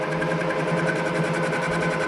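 A metal lathe runs steadily while its tool takes a small cut and feeds straight across the workpiece, making an even, close mechanical hum with a faint rapid rattle and no pauses.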